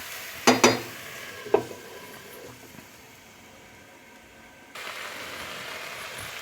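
Chicken curry is sautéed in a pan: a few sharp clanks of a utensil against the pan come first, then a soft frying sizzle swells up near the end.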